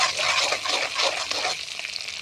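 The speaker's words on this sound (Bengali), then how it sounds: "পেঁয়াজ কুচি দিয়ে হালকা হালকা করে নাড়তে থাকবো। তারপর দিয়ে দেব আদা বাটা, দিয়ে নাড়তে থাকবো।" Chopped onion and ginger paste frying in a pan, a close, continuous sizzle with scraping stir strokes and a knock at the end, loud with no talking.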